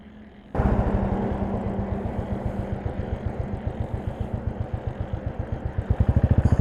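A motorcycle loaded with luggage for a long road trip starts up at night with a sharp burst and settles into a loud, close, rhythmic engine thump that quickens toward the end as it begins to move off.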